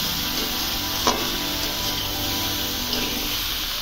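Fried potatoes and pumpkin pieces are stirred with spices in a pan, giving a steady close sizzle with scraping stirs and a couple of sharper knocks against the pan.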